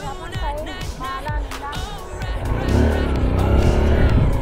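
A motorcycle engine runs on a new rural road near a river crossing in Palanan, Isabela, its low rumble growing louder and steadier in the second half, with voices talking over the first part.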